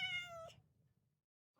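A house cat gives one clear, drawn-out meow up close, trailing into a soft low purr-like rumble, then a brief second sound after a pause; no talking.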